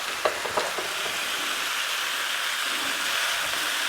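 Shrimp fry in a pan over medium-high heat with a steady, dense sizzle and a few early pops and crackles, close and even throughout, with no talking.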